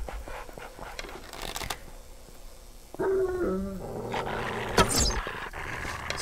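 Zombie dogs in the survival video game 7 Days to Die growl and snarl in a short burst midway, with louder rough vocal bursts near the end over ambient game noise and no talk.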